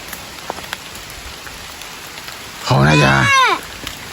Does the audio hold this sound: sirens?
no